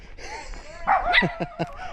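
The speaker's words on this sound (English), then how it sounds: "There's a cute little dog." A small dog barks during a neighborhood walk in a Philippine province, giving a few short, fairly close yips and barks in quick succession over quiet outdoor background.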